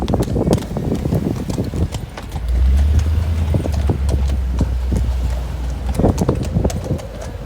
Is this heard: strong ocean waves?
no